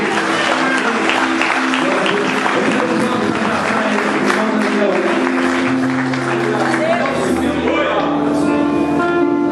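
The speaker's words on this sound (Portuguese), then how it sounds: "Aplauda mais uma vez e diga amém." A church congregation at an Assembly of God service breaks into applause over sustained keyboard music, the clapping loud and continuous with voices mixed in.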